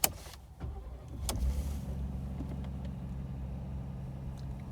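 A 2021 Ford F-150 STX with the 2.7 engine cold-starts with a brief starter whir, then settles into a steady, low, calm idle that continues close by on a freezing day.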